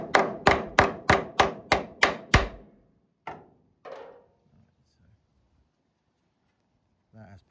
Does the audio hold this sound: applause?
no